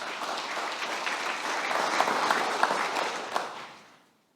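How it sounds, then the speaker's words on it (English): Audience applause at the launch of a Pacific and global health centre in New Zealand: a full, even wash of clapping from a sizeable crowd that swells slightly, then fades away to silence. "let's give Dr. Aditi a big round of applause."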